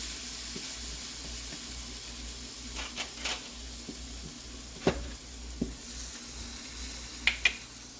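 A breakfast wrap sizzles quietly in a pan just after being flipped, a soft steady hiss with occasional sharp pops and clicks scattered over it.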